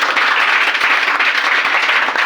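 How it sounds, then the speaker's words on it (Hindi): Students in a classroom applaud a classmate after a maths answer, a thick continuous burst of many hands clapping at steady loudness throughout. "चलिए रानी के लिए जोरदार ताली बजाइए"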